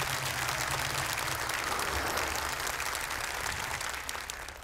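An audience at a Quran recitation contest applauds, dense, even clapping from many hands filling the hall, holding steady for several seconds before easing off slightly at the end.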